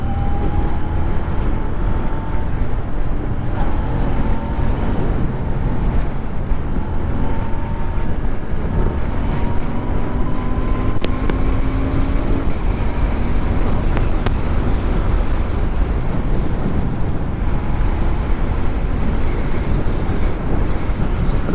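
A 2020 Royal Enfield Interceptor 650 cruising on a highway, a continuous low engine drone with gentle pitch rises through the gears, plus buffeting wind noise over the whole stretch.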